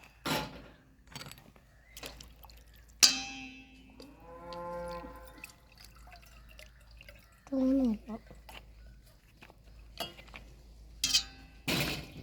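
Boiled hibiscus flower water, cooled and darkened to a deep colour, strained for hibiscus juice: soft drips and trickles with scattered clinks of utensils and brief voice-like tones in a quiet room.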